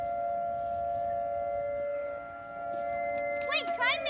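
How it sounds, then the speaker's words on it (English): A small tornado siren holds a steady electronic tone, then breaks into loud rising and falling wails near the end, with voices nearby. "this is actually a siren right here. Be careful, because it's about to go off."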